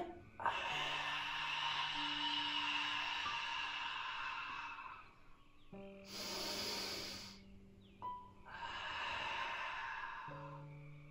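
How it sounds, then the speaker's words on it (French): Slow, deep breaths during a Pilates breathing exercise: long breathy exhalations with a faint hum, repeating in a steady rhythm with short pauses between them, close and soft, no talking. "Puis là, j'expire."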